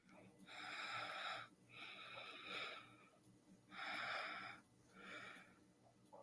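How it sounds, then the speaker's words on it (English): Someone breathing heavily or snoring, about four slow, raspy, wheezing cycles in a steady rhythm, each a harsh hissing burst separated by short quiet pauses. "Sounds like somebody's breathing heavy."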